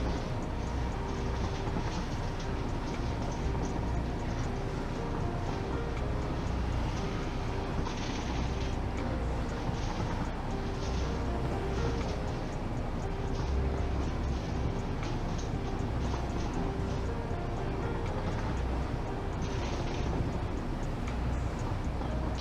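Train rolling in with a delivery in the factory-building game Satisfactory, a steady rumbling rail drone with rhythmic clicking and clacking that runs continuously and evenly, with no voices over it.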